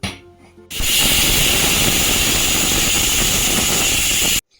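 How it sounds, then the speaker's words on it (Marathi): A pressure cooker of mint rice on a gas flame turned up high lets out one loud, steady hissing steam whistle. It lasts nearly four seconds and plays alone, with no talking, then cuts off abruptly. "आपल्याला याच्या 4 शिट्ट्या काढून घ्यायच्या आहेत"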